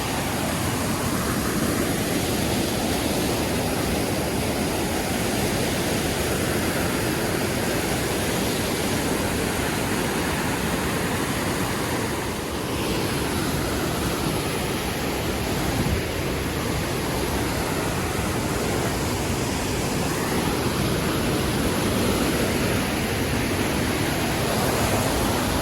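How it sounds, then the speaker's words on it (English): A waterfall's steady, loud, broadband roar surrounds the listener from up close, rushing without pause for the whole stretch with only a slight dip partway through. "I'm in the middle of the waterfall"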